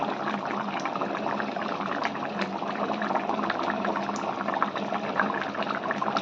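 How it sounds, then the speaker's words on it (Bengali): Raw mustard oil is poured over mustard hilsa (shorshe ilish) cooking in a pan, giving a steady, dense bubbling sizzle that runs unbroken throughout with no voices. "এবার এর উপর দিয়ে আমরা কাঁচা সর্ষের তেল দিয়ে নামিয়ে ফেলব।"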